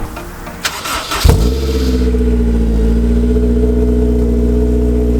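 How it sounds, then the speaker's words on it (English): A Honda S2000 cold start: a brief starter whir and catch, then the engine settles into a loud, steady, high idle, heard close and alone. "let's get a cold start up on the S2000"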